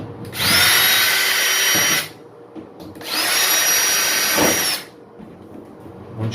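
A power drill spins out screws holding the top panel of a clothes dryer, in two loud, steady whirring bursts of about a second and a half each, with quieter pauses between them.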